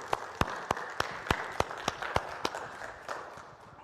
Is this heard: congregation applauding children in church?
yes